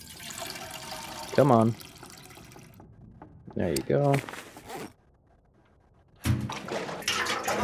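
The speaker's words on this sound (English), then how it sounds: "Where's my lantern? We need to refuel." A lantern being refuelled in The Long Dark, heard as short liquid pouring and sloshing bursts with brief pauses and near-silent gaps, and someone speaking briefly over it.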